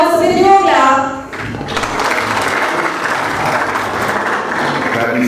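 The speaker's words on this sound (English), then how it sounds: "So ladies and gentlemen, with your clap" Audience applause fills a launch ceremony hall at a hotel, a dense, steady wash of many hands clapping that swells in after a brief voiced sound at the start and continues evenly to the end.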